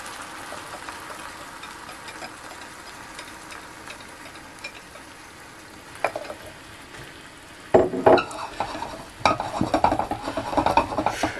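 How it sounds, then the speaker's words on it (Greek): Eggs fried in a pan with cheese over a very low flame, a soft steady sizzle at first, then louder crackling bursts and scraping stirs near the end, with no talking. "Θα ρίξω τα αυγά."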